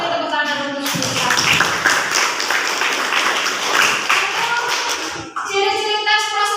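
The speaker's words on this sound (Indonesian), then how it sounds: "Beri tepuk tangan untuk mereka." Classroom applause for students in a vocational school lesson, a burst of clapping from a group of pupils lasting about four seconds, with voices talking before and after it.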